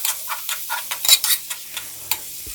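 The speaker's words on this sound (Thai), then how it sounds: "จากนั้นก็ผัดคลุกเคล้าให้เข้ากันครับ" Eggplant with minced pork and shrimp, seasoned with sugar, fish sauce and oyster sauce, is stir-fried in a pan: quick scraping stirs and sizzling bursts in an irregular rhythm, close and fairly loud, with no talk.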